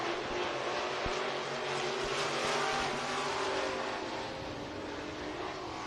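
Race cars circling RPM Speedway in Hays, Kansas, a distant, continuous engine roar from the pack at speed, steady and fairly faint with a few sharp knocks.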